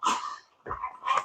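Close, short bursts of dog growling and snarling, two or three rough grumbles with brief pauses, as if dogs are playfighting.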